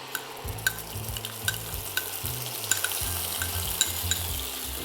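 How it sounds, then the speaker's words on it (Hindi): Peanut sauce spice paste fries in hot oil for chicken satay, a steady close sizzle with scraping stirs and light utensil clinks at an even rhythm, no voices. "क्विकली इसे हम भूनेंगे ताकि इसका जो कच्चापन है वो निकल जाए।"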